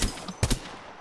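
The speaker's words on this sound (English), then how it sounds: "This is regular fire." A G7 Scout rifle in the game Apex Legends fires on regular, single-shot fire, giving two or three sharp, closely spaced shots in a brief burst.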